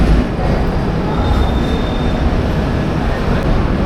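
The Ispat Express stands at platform 8 of Kharagpur station, a loud constant rumble of idling train and station noise filling the whole stretch, with a faint thin squeal briefly above it and no clear speech.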